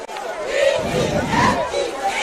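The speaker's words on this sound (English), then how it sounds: "It is a loud one here, Westlake. Hefty crowd." A large, loud crowd at a high school football game between North Cobb and Westlake, a steady roar of cheering voices with swelling shouts, close and continuous.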